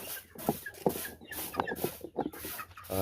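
Chickens cluck in short, irregular bursts inside a coop, close and fairly loud, with several separate calls overlapping and no voices.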